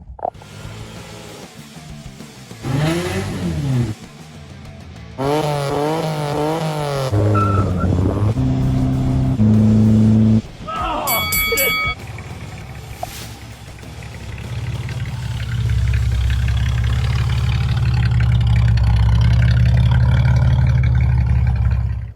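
A 1986 TVR 280i with a Ford 2.8 V6 runs with shifting engine tones that rise and fall as it revs, later settling into a loud, steady low drone, with no talking.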